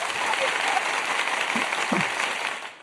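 Audience applause as a guest is brought to the stage, a steady wash of many clapping hands with brief voices over it.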